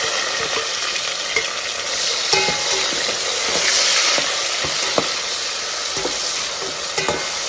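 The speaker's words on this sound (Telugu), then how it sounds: "ఇదిగో చూడండి పోపు వేగింది, ఒక 2 టమోటాలు అయితే వేసుకున్నాం." Steady, loud sizzling of tempering spices and two tomatoes frying in a hot pan for mutton curry, a continuous bright hiss with occasional light clicks of a stirring spoon.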